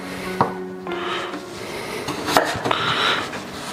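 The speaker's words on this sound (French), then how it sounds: "On va couper les patates. Hop, je mets en deux. Je coupe à la moitié chacune." A knife halving potatoes on a wooden chopping board in a home kitchen, giving a few separate close knocks and scraping strokes on the wood with no talking.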